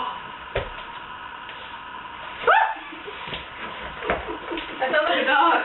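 A person imitates a dog with voiced barks and yelps, a sharp yip mid-clip and more yappy sounds near the end, amid talking and kitchen shuffling.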